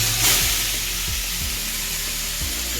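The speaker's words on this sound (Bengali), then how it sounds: "তেল হয়ে গেছে গরম এবার আমি এর মধ্যে পুরো চিকেনটা ছেড়ে দেবো" A whole chicken fries in hot oil, a loud, dense, continuous sizzle and crackle close up, steady throughout with a few low thumps, no talking.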